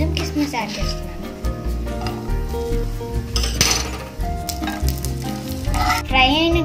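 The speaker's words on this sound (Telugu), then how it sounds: "క్యాష్యూస్ ఫ్రై అవుతున్నాయి" Cashews and raisins fry in ghee in a pan, a close, steady sizzle with occasional clinks of utensils against the vessel, a person talking over it throughout.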